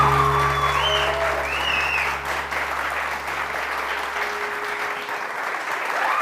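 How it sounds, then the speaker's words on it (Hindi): A studio audience on a televised morning show applauds Chef Mehboob with sustained, moderately loud clapping over a low steady hum and faint background tones. "शेफ महबूब के लिए बहुत सारी तालियां"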